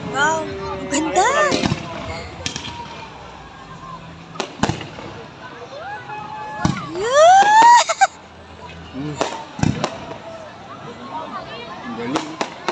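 Fireworks whistle upward and burst in several sharp bangs spread across the stretch, with people talking and exclaiming between the explosions.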